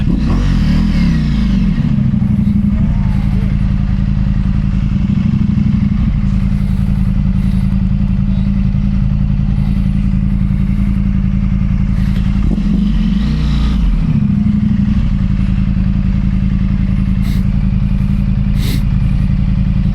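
A Ducati Pikes Peak motorcycle rides fast, its engine droning loud and steady throughout with two clear rev swells and gear changes, wind rushing over the bike and no talk.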